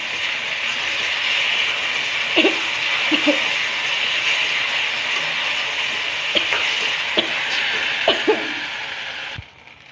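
Bhedailota curry with garlic, panch phoron and dried chillies frying in a pan, a steady sizzle broken by several distinct scrapes and clinks of stirring, close and fairly loud with no voice.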